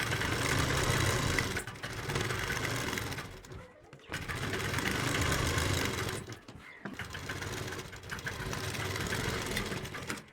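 A sewing machine stitches a Patiala dhoti salwar, whirring in steady rapid runs of a few seconds each, broken by two short pauses, close and alone.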